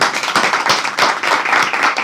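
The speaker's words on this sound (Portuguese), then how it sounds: "Uma salva de palmas para o Paulo, gente, por favor." Audience clapping for an author at the closing of a writing course, with dense, close hand claps in an irregular rhythm sustained throughout and no talking over them.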